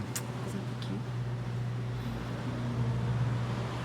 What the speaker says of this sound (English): There's like a super noisy truck passing by right now, guys.